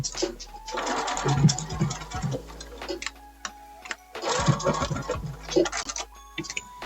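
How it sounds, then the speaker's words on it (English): A sewing machine stitches a 5/8-inch seam on a wrap dress in two close bursts of rapid mechanical ticking, with pauses between them and brief handling noises. "And then I'm going to sew this at 5/8 right here."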